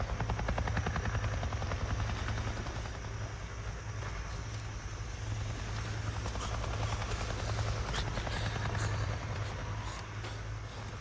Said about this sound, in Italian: Un elicottero della Nero! Mi è appena passato sopra, ignorandomi del tutto!